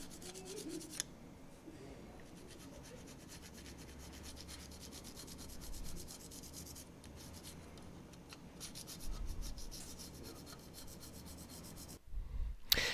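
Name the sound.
scraping stuck tape bits off painted Ampex VR-1200B casing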